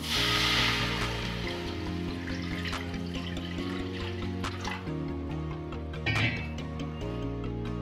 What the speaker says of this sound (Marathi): आपण पाणी घालतो पहिल्यांदा